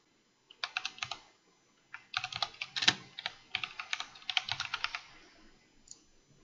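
Someone types a short entry on a computer keyboard in close, crisp bursts of rapid key clicks separated by brief pauses, with no speech.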